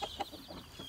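An Easter Egger hen clucks softly in a coop among brooding hens, a few quiet, short clucks in quick succession, faint and close with no talking.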